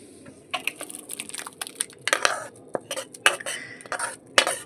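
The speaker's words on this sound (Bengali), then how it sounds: "খিচুড়িটা আমি গামলার মধ্যে ঢেলে নিচ্ছি" Vegetable khichuri made with winter vegetables is scooped into a large bowl with a metal utensil, giving faint, irregular clinks and scrapes of metal against the pot and bowl, with no voices.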